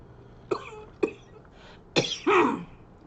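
A person coughs indoors, two short sharp coughs followed by a heavier, longer cough and throat-clearing burst, close and fairly clear against a quiet background.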